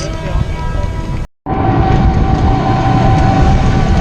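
Train noise at Agra Cantt railway station, a steady loud rumble of rail cars with a brief cutout early on, then continuous rolling drone with a faint tonal whine.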